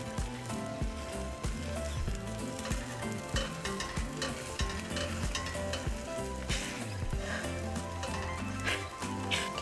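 An egg fries in a pan for a Mexican breakfast burrito, sizzling and crackling steadily and close up with dense popping and spattering throughout.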